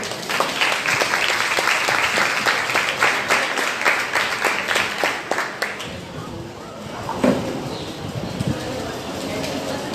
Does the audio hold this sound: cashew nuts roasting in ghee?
no